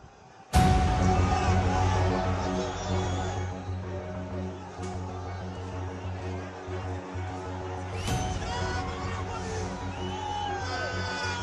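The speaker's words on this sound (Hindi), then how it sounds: "उग्र प्रदर्शनकारियों ने पहले बैरिकेड पर लगी पाइप को खींचकर निकाला।" Angry protesters crowd a barricade at a demonstration against illegal mosque construction in Shimla, a dense, loud roar of shouting and whooping voices that swells suddenly and holds steady, with sharp yells rising above the steady hubbub.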